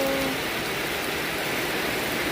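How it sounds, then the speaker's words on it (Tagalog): Heavy rain pours down steadily, a dense, loud broadband hiss that stays constant throughout with no pauses or talking. "Lakas ng ulan. Grabe ang lakas."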